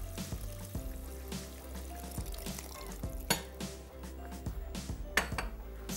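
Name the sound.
water poured into a pot of rice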